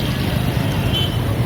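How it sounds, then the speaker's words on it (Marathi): Cars speed past on a roadside, a loud, constant rumble of fast-moving traffic with a brief horn toot riding over the engine noise. "पण गाड्या एकदम जोरात येतात."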